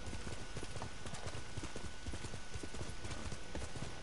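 A horse gallops in Ghost of Tsushima, its hooves drumming in a rapid, continuous rhythm that is loud and close and fills the entire stretch.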